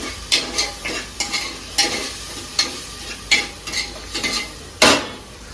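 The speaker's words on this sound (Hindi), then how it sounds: "इसको स्टर कर दो" Food fries in a pan under steady sizzling as a spoon stirs it, with rhythmic scraping strokes about twice a second, close and clear.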